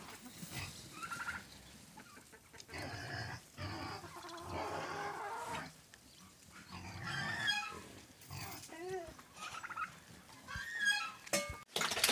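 Wet slurping and lapping noises from pigs drinking warm water on a freezing day, close by, mixed with grunts and some bird calls in the background.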